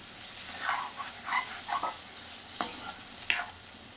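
Prawn and poppy-seed paste sizzles softly in a pan as rinse water is poured in, giving faint bubbling hiss with a few sharp spits and stirring clinks, quiet and close.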